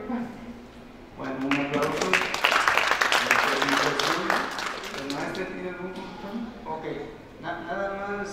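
Audience applause at an agronomy projects presentation swells after a spoken line, peaks loudly in the middle and fades, with talking heard before and after the clapping.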